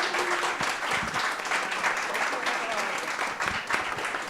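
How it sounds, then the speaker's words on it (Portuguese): Applause from an audience at a training session, a full, steady clapping crowd with some individual claps standing out, sustained at moderate volume throughout. "E eu queria pedir uma salva de palmas para a doutora Inês."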